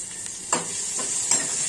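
Garlic, green chilli and peanut paste with chopped tomato sautéing in a pan for palak paneer, a constant close sizzle broken by a couple of soft stirring scrapes, no talking.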